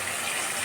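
Goat liver frying in hot oil, a steady close sizzle that holds evenly with no speech, ending on a short sharp burst.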